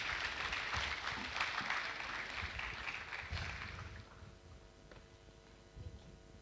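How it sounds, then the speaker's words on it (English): Audience at a university technology week event giving a round of applause for a presenter, a faint, even wash of clapping that fades out after about four seconds, leaving quiet room hum with a few light knocks. "Please let's welcome him with a round of applause."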